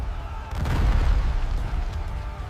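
Naval battle cannon fire rumbles as a heavy, deep boom that swells after a short quiet start and then rolls on as a sustained low roar, with no voices over it.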